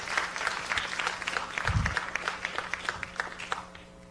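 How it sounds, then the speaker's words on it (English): Audience clapping in a university auditorium, a steady patter of many hands at moderate distance, fairly soft and continuous, with a brief low thump partway through. "Applause is good."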